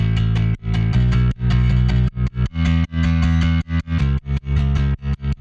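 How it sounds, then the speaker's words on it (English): Distorted punk bass in an FL Studio melodic rock bass remix, driving a loud, dense, gritty line of sustained notes broken by short rhythmic cutouts, sitting prominently in the mix. "Punk bass."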